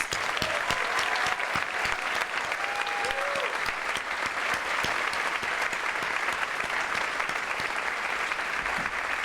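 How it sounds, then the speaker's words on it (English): Continuous, even applause from a large crowd at a high school awards ceremony honoring the graduating class, a dense wash of clapping heard at a moderate distance with brief faint murmurs. "a huge round of applause again for the class of 2026"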